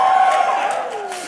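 An audience at a 2022 class day student address hollers and whoops together in a loud, sustained burst of crowd cheering that fills the room and slowly settles.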